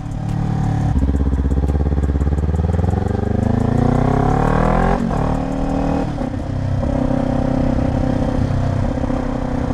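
A motorcycle with a loud aftermarket LV-10 exhaust revs and accelerates through the gears, its deep engine rumble rising and falling close by.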